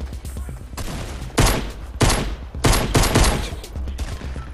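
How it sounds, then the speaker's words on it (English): Rapid bursts of gunfire in the video game Fortnite Battle Royale come in several loud clusters of shots over a few seconds, close and dense, with no talk over them. "I'm gonna shot you in the head so many times, Matt."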